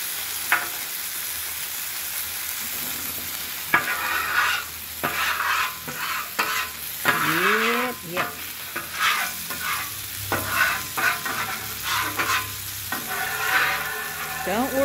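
Burger patties sizzling on a griddle while being flipped and smashed, with loud, continuous frying hiss broken by repeated metal spatula scrapes, slaps and squeaky swipes close up.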